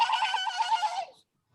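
A live storyteller imitates a horse's neigh with her voice: one close, bright whinny of about a second with a wavering pitch, fading into silence.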